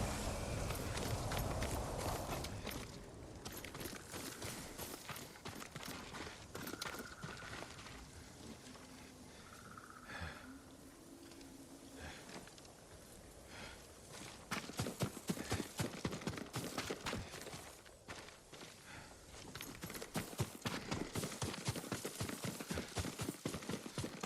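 Horse hooves clip-clopping in the video game Ghost of Tsushima, a steady walking rhythm under ambient game sound, growing louder and busier toward the end.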